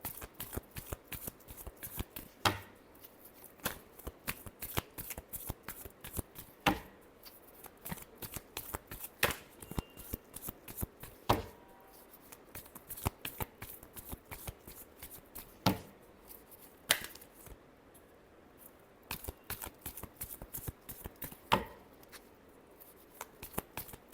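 Tarot cards being shuffled by hand, repeated quick riffling bursts with sharp card snaps and pauses in between, close and fairly quiet, no talking.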